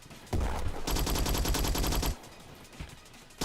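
Skorpion submachine gun firing in the Roblox game Bad Business, one loud rapid automatic burst of about a second, with a single sharper shot before and after.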